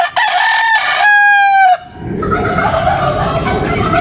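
A Kelso gamecock rooster crows loudly and close by in one long, strained call, followed by scattered clucking and farmyard noise.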